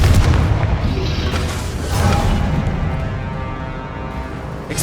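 A Confringo fire spell blasting in the Hogwarts Legacy video game: a loud, deep, booming explosion with a long rumbling tail and a second swell of impact partway through, no talking.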